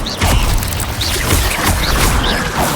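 Spell effects from Hogwarts Legacy, including the Incendio fire spell, erupt as several whooshing bursts with low booming impacts, repeated roughly every half second amid busy game sound.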